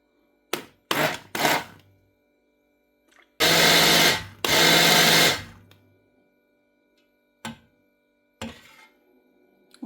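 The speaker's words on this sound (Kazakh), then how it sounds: "Блендермен өткіземіз." An immersion blender purees cooked yellow plum compote in a pot with a few short whirring bursts, then two longer loud pulses, then brief taps and pauses between runs.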